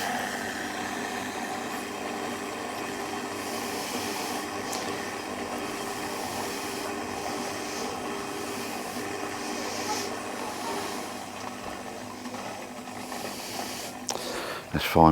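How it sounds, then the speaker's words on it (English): A Bestway plunge pool pump runs after being switched on and purged, giving a steady, moderately loud mechanical hum with a hissing water rush, and someone briefly speaks over it before a clatter at the end. "Then I switch it on, and I purge it a bit more when it's running. Make a bit of a noise"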